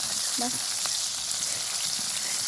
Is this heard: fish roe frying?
yes